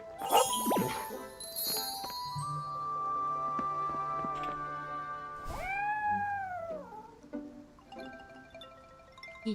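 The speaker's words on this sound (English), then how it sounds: "She's definitely a motorboat purrer." A cat lets out a clear, drawn-out meow partway through, with scattered light jingling and tinkling chimes around it in a quiet room.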